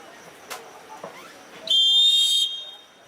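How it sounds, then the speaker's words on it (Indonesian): At an amateur soccer championship match, a referee blows one long, loud, shrill whistle blast lasting under a second, after a few faint knocks and sounds of play. "ketika bola peluit berbunyi kembali"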